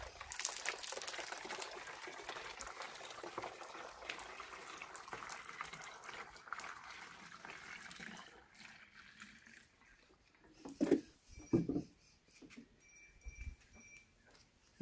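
Water pouring into a homemade PET bottle water dispenser, a continuous rushing splash that fades out, followed by a few sharp knocks and handling sounds.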